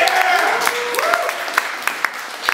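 Comedy club audience at a stand-up show gives brief applause and cheers, a short burst of clapping mixed with whoops and voices, fairly close and loud.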